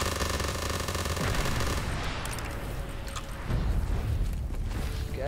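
Dense, continuous gunfire rattles through a zombies map in a video game, with rapid overlapping shots and bursts that swell and ease over a few seconds, loud and close with no talking.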